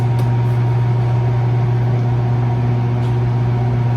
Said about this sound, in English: I hear my spinach cooking in the microwave. It's getting with it over there, making all kind of noise.